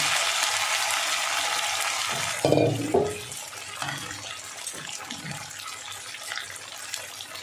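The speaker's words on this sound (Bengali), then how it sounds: "এবার আমি বাটিটা ধুয়ে একটু জল দিয়ে দেবো।" Water running from a kitchen tap as a spice bowl is rinsed, a steady close splash that briefly surges as water is poured out, then settles into quieter trickling and clinks.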